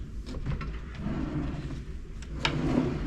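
A drawer in a Hotel Indigo Torquay room slides open and shut, giving a few soft, close knocks and scrapes over quiet room tone, with no talking.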